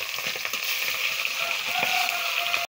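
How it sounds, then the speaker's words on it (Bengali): Dense, hissing sizzle of fish frying in hot oil in a wok, steady and close, with faint crackles and a brief cut near the end. "এবার মাছগুলো ভাজা হয়ে যাচ্ছে এদিকে"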